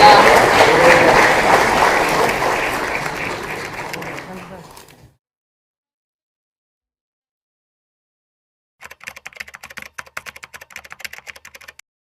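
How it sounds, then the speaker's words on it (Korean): Applause from a party convention crowd as a floor-leader election winner is declared, loud and dense at first and fading out around five seconds, then after a silence a sparser patter of scattered claps returns. "다시 한번 크게 박수로"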